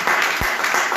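A church congregation applauds during a Sunday worship service, a brief, dense wash of clapping that holds steady for about a second.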